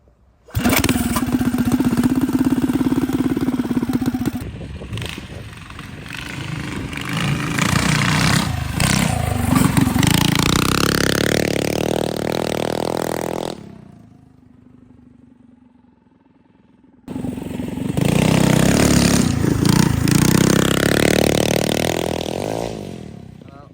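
A mini bike engine struggles in cold, snowy weather, running loud and close with a rough, uneven buzz that rises and falls, cuts out briefly near the middle, then restarts and revs again.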